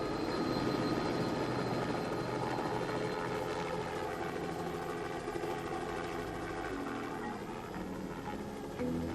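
A helicopter's rotor thrums steadily at a moderate distance, a continuous droning engine with no voices.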